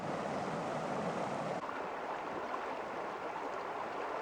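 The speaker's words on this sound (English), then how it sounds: "now we are close to the creek again, and that should be nice. I can hear it from here." Steady rushing of O'Brien Creek water heard from a hiking trail, a continuous even wash of flowing sound with no voices.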